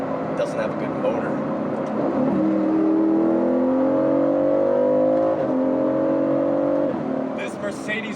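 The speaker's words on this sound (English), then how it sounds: "This Mercedes motor is absolutely incredible for what it is." A 2019 Aston Martin Vantage with a Mercedes-AMG M177 engine pulling hard, its note climbing through the revs in rising sweeps with a gear change midway, loud and close, with a voice over it.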